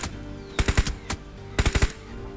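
Gunfire in a first-person shooter video game: two quick bursts of three to four sharp automatic shots, with a single shot between them, close and punchy over a quiet background.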